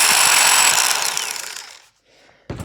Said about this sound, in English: New angle grinder has come.